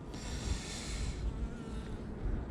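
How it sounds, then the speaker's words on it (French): Honeybees buzz steadily at a small swarm hive, a dense, continuous hum close by with a faint breathy layer over it and no talk. "Ouais, bah c'est des petits essaims là."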